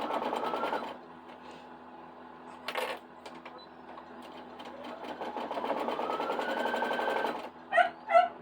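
A sewing machine stitching quilt pieces together, running in steady rapid bursts of mechanical clatter with a rising motor whine, pausing briefly between runs and ending with a couple of short clicks, close and clear without talk.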